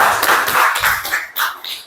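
A grade ten high school class claps for the teacher with close, irregular hand claps and taps, loud and uneven over two seconds.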